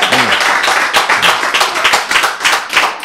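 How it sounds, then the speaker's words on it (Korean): Lively applause from an audience at a lecture, many hands clapping steadily for a few seconds, loud and close, with no speech over it. "박수."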